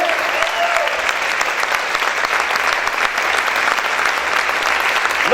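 A church congregation claps loudly for the Lord in a steady, dense wash of applause that holds at full strength from start to finish, with no clear voices above it.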